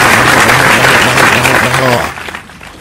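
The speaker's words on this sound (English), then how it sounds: "people are clapping to the fireworks." Loud crowd clapping close by at a fireworks show, dense and continuous with voices mixed in, easing off toward the end.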